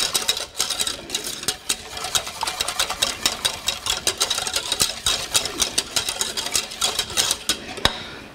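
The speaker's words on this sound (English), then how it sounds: "And give that a really good whisk." A whisk beats raspberry meringue pie filling in a bowl, rapid rhythmic metallic clicks and scrapes repeating steadily and close up, with no talking.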